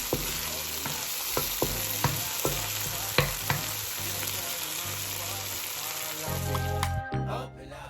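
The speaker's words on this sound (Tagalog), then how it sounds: "Isusutay lang natin yung kamatis hanggang sa madurog." Chopped tomatoes sizzle in a hot pan while being stirred and mashed for mussel adobo with bitter melon. Steady frying hiss with regular scraping taps of a utensil, close and moderately loud.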